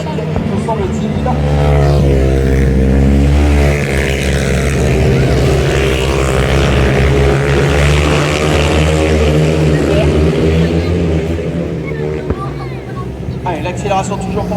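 Grass track racing motorcycles accelerate at a solo and sidecar meeting in Saint-Macaire. A loud, rising engine whine sweeps through the whole stretch while a commentator speaks over it.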